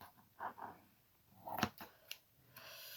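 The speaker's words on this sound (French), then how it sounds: "Je vais couper... c'est un peu comme de l'organza." Scissors make a few quiet, close snips through a thin, organza-like fabric, with soft rustling between the cuts.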